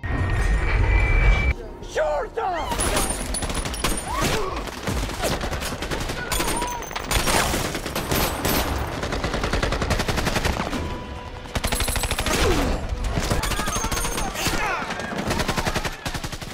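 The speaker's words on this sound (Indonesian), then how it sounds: "para teroris mengetahui lokasi pasukan Mayor Rudy hingga peperangan pun tak bisa dihindarkan" Dense, continuous gunfire and rapid machine-gun bursts fill a battle between terrorists and an army unit in an action film. It stays loud and steady throughout, with voices mixed into the din.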